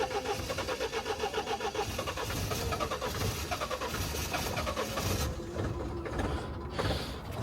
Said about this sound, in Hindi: यहाँ एक बार क्रैंक मारते हैं।